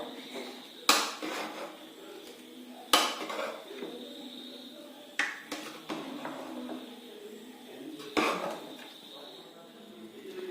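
Homemade chicken mandi is stirred in a pot, with several sharp metallic clanks and scrapes of a utensil against the pot spaced a few seconds apart, close and clear over a quiet background.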